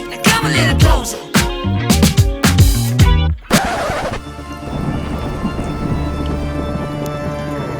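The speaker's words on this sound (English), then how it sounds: "sound design with like thunderclaps and wave sounds and rain sounds" Loud cracking thunder claps strike several times in quick succession, then give way to a steady wash of pouring rain.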